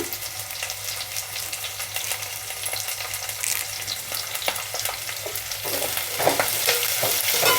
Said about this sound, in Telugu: ఉల్లిపాయలు బాగా వేగనిద్దాము పచ్చివాసన పోయేదాకా